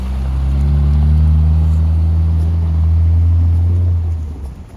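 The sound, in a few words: 1970 Mercedes 280SE with M130 engine driving off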